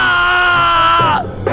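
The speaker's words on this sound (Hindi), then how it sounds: "एक खौफनाक चीख के साथ रोहित ठंडा पड़ गया।" A loud, horrifying human scream, held and drawn out, that drops in pitch and breaks off near the end, used as a horror story sound effect.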